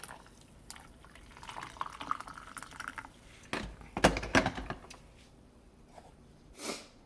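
Close coffee pouring and dripping into a cup, intermittent trickles and splashes with a couple of louder clinks and a short burst near the end.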